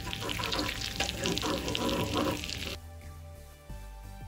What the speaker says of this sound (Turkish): Şöyle unun hafif rengi dönene kadar sürekli karıştırarak kavuralım.